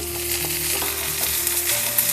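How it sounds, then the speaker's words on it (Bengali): Spiced potatoes sautéed in a pan with fried onion and chili, sizzling steadily and close, with occasional scraping stir sounds and no talk. "আলুটাকে ভালো করে কষিয়ে নেব"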